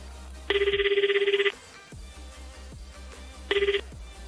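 A telephone ringback tone while placing a call: two loud electronic ring bursts, the first about a second long and the second shorter after a pause, over a low background hum with soft clicks.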